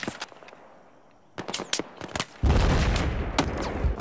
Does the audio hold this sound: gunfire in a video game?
yes